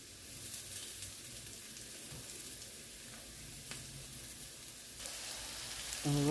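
Potato pieces, skin left on, fry in a pan with a steady soft sizzle and light crackle throughout, fairly quiet and close, with a brief louder clatter near the end.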